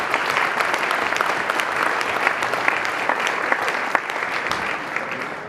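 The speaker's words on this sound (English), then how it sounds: "so let's give him some more applause for that." An audience at an annual gala applauds steadily, dense clapping filling the room for several seconds and fading slightly toward the end.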